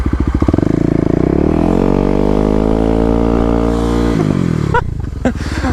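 Kawasaki KLX250 dirt bike revving hard in first gear on dirt during a burnout attempt, a loud steady engine drone with rising and falling pitch, rough clatter near the end as it bogs and picks back up.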